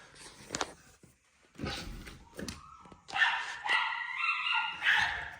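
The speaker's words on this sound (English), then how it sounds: "dog is going wild" Excited barks from a dog that is going wild, several sharp separate yelps and then a run of high whining and yipping, fairly close and with no talk.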